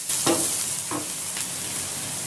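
Onions sautéing with salt in a pan give a steady sizzle close by, broken by three short stirring scrapes.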